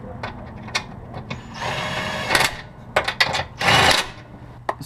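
A power tool runs down sway bar bolts in quick whirring bursts, several short zaps separated by brief pauses and clicks, close and fairly loud.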